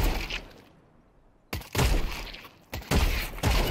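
Counter-Strike gunfire on the Anubis map, several sharp, loud shots in quick bursts separated by short pauses, close and harsh.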